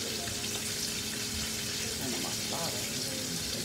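Fried chicken sizzles in hot oil with a steady, dense crackle filling the whole stretch, a few faint voices murmuring underneath.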